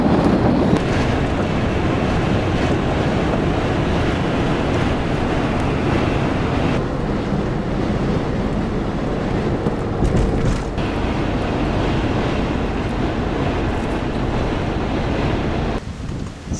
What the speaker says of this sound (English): it's really windy here